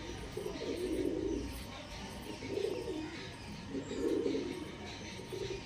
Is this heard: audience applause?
no